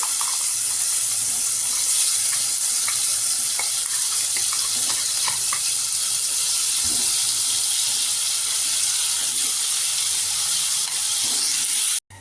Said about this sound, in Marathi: त्याच्यात आता हा सगळा मसाला घालून चांगला भाजून घ्यायचा आहे